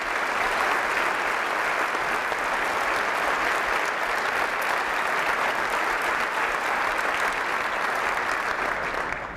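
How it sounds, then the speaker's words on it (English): A large audience at a community breakfast applauds a couple of parents with steady, dense, even clapping that holds at full volume for about nine seconds. "If we could have a nice round of applause for them"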